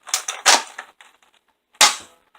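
A BuzzBee Rapid Fire Tek toy blaster fires Whistler darts: a cluster of sharp, close pops and clacks, then a gap of quiet before one more loud snap.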